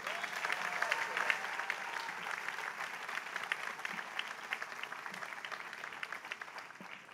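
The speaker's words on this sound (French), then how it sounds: "Et je vous remercie de l'applaudir." Audience applause fills a graduation ceremony hall, a steady dense wash of many hands clapping that holds for several seconds before tapering slightly at the end.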